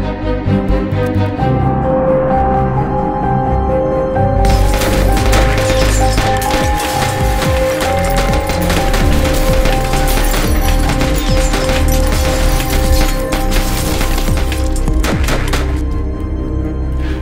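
Airsoft gun shots and impact effects for a low-budget action test film burst in after a brief lull: a loud, dense barrage of sharp cracks and splintering crashes that continues almost without a break.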